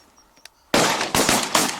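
A hunting gunshot goes off loud and close after near silence, a sharp burst followed by a few quick rattling pops and a brief echoing tail.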